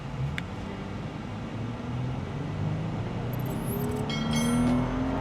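A Toyota 4Runner fitted with a pre-tuned ECU accelerates hard on a 0-60 run. Heard from inside, a steady engine roar and road noise build gradually in pitch and loudness.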